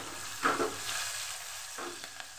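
Green chillies and ginger hit hot oil with a faint steady sizzle, broken by a couple of soft stirring scrapes, quiet and close, with no talking.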